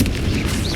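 Confringo fire spell blast in Hogwarts Legacy, a dense, loud, rumbling boom that fills the short moment without letup, heavy in the low end with a crackling upper layer.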